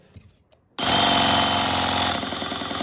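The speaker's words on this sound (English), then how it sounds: "The first function is a chisel function, which creates linear motion" A Milwaukee M18 hammer drill in chisel mode, driving linear hammering without rotation, snaps on abruptly after near-silence and runs loud and close with a steady, dense rattling buzz until the end.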